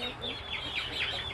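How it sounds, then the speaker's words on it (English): Young meat chickens on a small farm cluck and peep in short rising calls that repeat several times, close by and fairly soft over low background noise. "Little chickens just run around everywhere"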